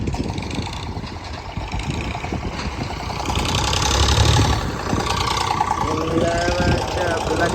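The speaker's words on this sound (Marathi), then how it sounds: "10-15 ट्रॅक्टर है, 10-15." Several tractor engines idle together in a steady, loud low rumble with a knocking throb, and people talk over them throughout.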